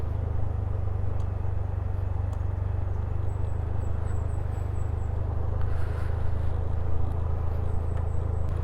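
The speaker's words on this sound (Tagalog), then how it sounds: "Engine brake." Vehicle engine braking on a downhill, a steady low rumbling drone held throughout with faint high squeaks above it, no talking.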